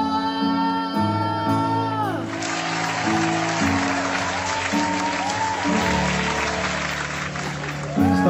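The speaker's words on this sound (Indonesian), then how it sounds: "Boleh beri tepuk tangan sekali lagi yang paling meriah untuk Papa dan Mama" An audience at a stage show applauds for a couple, a broad wash of clapping rising midway and continuing under loud, sustained music with shifting chords.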